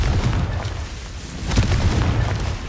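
Confringo blasting spell from Hogwarts Legacy on PC, heavy booming explosions over a constant deep rumble, with one burst near the start and a stronger blast about halfway through.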